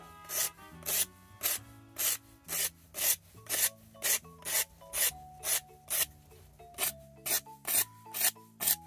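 Rhythmic rasping strokes of 240-grit sandpaper against the edge of a rear brake pad for a Nissan X-Trail T31, about two per second, close and steady, with faint music in the background.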